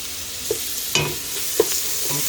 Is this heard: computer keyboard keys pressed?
no